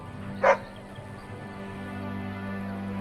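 A dog in the Dragon Age video game lets out one short, bright bark near the start, then only a quiet low hum remains.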